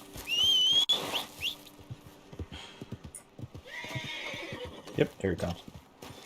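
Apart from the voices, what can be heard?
horse neighing and hooves in video game Red Dead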